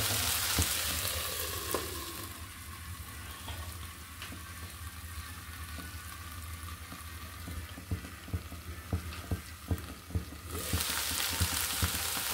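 Vegetables fry in a pan with a steady, close sizzle, joined by a run of sharp stirring scrapes and knocks toward the end.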